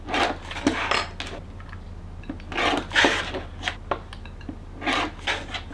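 Close, soft snipping and rubbing as small loose threads are trimmed off a fabric quilt block, irregular short bursts over several seconds with quiet gaps, no voices.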